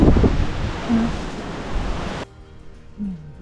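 Strong wind on Mt. Guiting-Guiting in the Philippines buffets the microphone in loud roaring gusts, then drops off abruptly to a quieter background.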